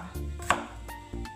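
Knife chopping onion roughly on a board, a few sharp separate chops with short pauses, close and fairly quiet, no talk.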